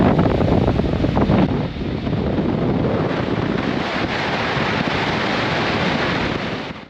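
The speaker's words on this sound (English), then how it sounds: "I love the Road Glide in the wind, in the wide open." Strong, steady wind buffeting the microphone while riding a new Harley-Davidson Road Glide touring motorcycle on an open road, a loud broadband roar that holds nearly constant with one brief dip, no voices.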